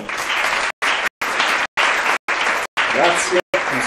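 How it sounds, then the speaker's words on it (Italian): An audience applauds at a 2007 short-film event in Italy, a dense continuous burst of clapping that cuts in and out in short chunks. "Un applauso."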